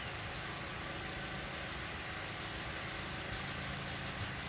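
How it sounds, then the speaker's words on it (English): A Toyota Auris engine idles steadily at close range, a faint light rattle sitting within the continuous hum, with no one talking. "There's a wee rattle."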